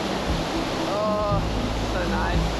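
A waterfall in a remote Vietnamese jungle river crashes over rocks in a steady, close, broadband roar that never lets up, with faint voices or bird calls briefly rising above it.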